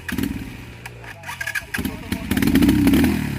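A motorcycle climbing a mountain trail sputters and catches, then revs up to a loud, sustained full-throttle roar close by, with people talking over it.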